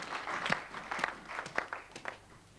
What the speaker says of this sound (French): Let's clap the hand once more for the Lord.